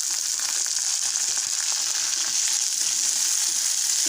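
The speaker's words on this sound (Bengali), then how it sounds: "শুটকিটা একটু ভেজে পরে মশলা দিয়ে দিব লতির জন্য।" Dried shrimp (icha shutki) frying with onions in a pan, giving a steady, close, even sizzle with faint stirring scrapes and no voices.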